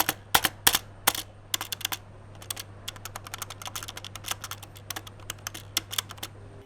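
Keys clack on a RedGear Shadow Amulet budget mechanical keyboard, a close, quiet run of crisp irregular keystrokes with bursts and short pauses over a low steady hum.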